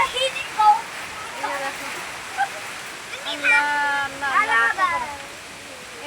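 Storm with strong wind and rain roars as a steady broadband wash while mango branches break, with a voice talking over it throughout.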